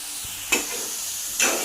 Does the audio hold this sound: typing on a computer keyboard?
no